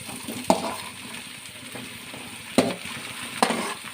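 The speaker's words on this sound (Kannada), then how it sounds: "ಇದು ಸ್ವಲ್ಪ ಹಾಗೆ ಫ್ರೈ ಮಾಡ್ತೇನೆ" Cut okra (lady's finger) fries in a pan for a gravy with a soft, steady sizzle, broken by three sharp clinks of a spatula stirring against the metal.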